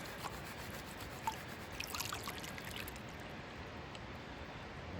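Soft trickling and splashing of water poured a little at a time into a gold pan, faint and close, over a low steady background hiss.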